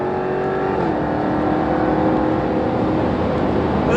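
Jaguar Project 8 with 600PS and four-wheel drive at speed on a race track, its engine a loud, steady drone with a slight pitch shift near the start, continuous throughout.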